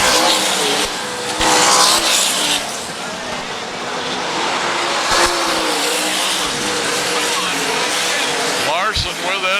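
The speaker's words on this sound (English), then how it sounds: "he kind of throttles the gas as he goes by" A sprint race car roars past at full throttle while taking the checkered flag, a loud, sustained engine howl rising and falling as it passes close by over steady crowd and track noise.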